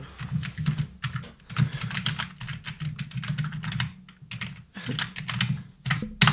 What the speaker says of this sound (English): He's been pounding that keyboard.